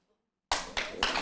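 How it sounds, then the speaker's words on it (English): An audience bursts into applause after a moment of silence, dense clapping that swells in two or three surges, close and fairly loud. "You see, you want to clap now."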